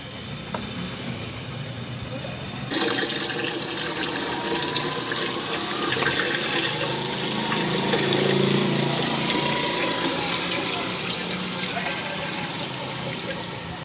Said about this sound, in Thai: เดี๋ยวจะเติมน้ำ ใหม่ลงไป